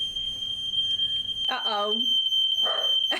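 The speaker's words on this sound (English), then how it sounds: "might have set the fire alarm off" A kitchen smoke alarm gives a constant shrill, piercing tone throughout, loud and close, while people talk briefly over it.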